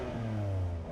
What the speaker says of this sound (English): give the M4 some revs.